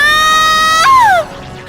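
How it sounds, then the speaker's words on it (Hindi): A single loud, high-pitched scream in a horror cartoon holds steady, then breaks and slides downward before cutting off. "तभी उसे किन की चीख सुनाई दी।"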